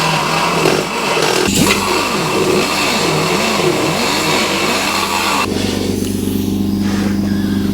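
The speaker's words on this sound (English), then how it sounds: "Wait for my asthmatic compressor to catch up." A worn, struggling air compressor runs steadily in a workshop during a Suzuki GS custom motorcycle build, its motor droning and pulsing at a loud, constant level.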